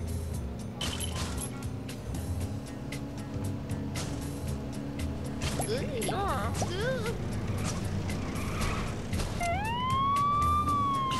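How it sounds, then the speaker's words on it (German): Police car siren in the video game LEGO City My City 2, rising wails heard late in the clip over busy game engine and traffic noise, with someone talking throughout. "Auch die Sirene an."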